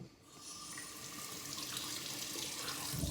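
Tap water runs steadily into a sink to rinse a straight razor, a close, even splashing rush that builds slightly louder toward the end.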